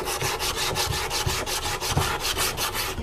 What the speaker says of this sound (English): When we scrape this thin oxide layer,